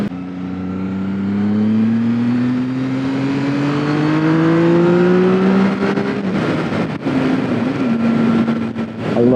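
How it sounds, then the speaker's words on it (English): A Triumph motorcycle accelerates out of a corner, its engine note rising steadily and loud for several seconds before changing gear and settling, with wind buffeting toward the end. "I love accelerating out of a corner."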